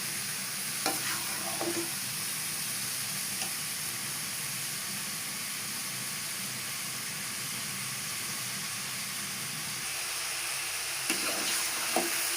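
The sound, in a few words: zucchini curry vegetables frying in oil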